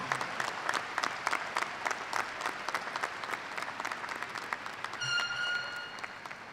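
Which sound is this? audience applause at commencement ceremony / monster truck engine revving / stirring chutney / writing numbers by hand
audience applause at commencement ceremony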